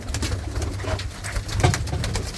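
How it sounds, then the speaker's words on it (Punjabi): Female pigeons in a loft coo continuously and close up, with soft, overlapping low throaty calls layered over faint fluttering and rustling, with no talking. "ਇਹ ਚ ਸਾਰੀਆਂ ਕਬੂਤਰੀਆਂ ਹੀ ਆ"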